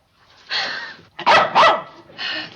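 A dog in an American sitcom barks several times in short separated bursts, with two loud close barks in the middle framed by softer yips, heard alone without talk.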